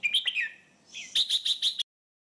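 Crested bulbul (merbah jambul) singing alone, a bright chirpy phrase of several quick whistled notes, then a short pause and a burst of rapid repeated notes, clear and fairly close.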